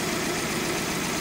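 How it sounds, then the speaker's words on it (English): A 2003 Hyundai Elantra engine idles with a cylinder misfire, giving a steady, dense running drone with a slightly uneven pulse, heard close up and alone. "It has a miss, has recorded a misfire on cylinder number 3"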